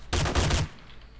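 A quick burst of automatic gunfire in the survival game DayZ, roughly four or five rapid loud shots in under half a second, then a short fading tail.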